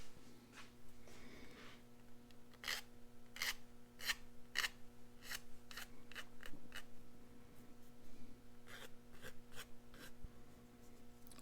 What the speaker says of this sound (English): you may find that you've got some little burrs that you need to clean up with a file